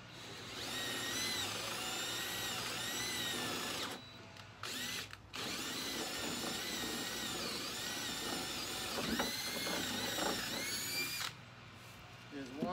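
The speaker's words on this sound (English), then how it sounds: "And I'm gonna drill right in the middle." A cordless drill whines loudly at close range, running in long bursts with brief pauses and changes in pitch as it bores into a wooden board.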